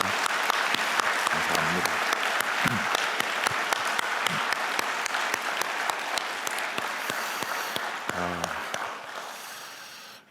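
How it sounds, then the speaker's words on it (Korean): A church congregation at a Korean worship service claps in thanks, sustained applause from many hands that fills the room and slowly fades, with a few voices speaking briefly over it. "감사와 격려의 뜻을 담아서 우리 한번 박수하도록 하겠습니다"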